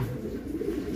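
Racing pigeons being readied as race entries coo softly and steadily throughout, a low continuous murmur of birds at close range with no talk over it.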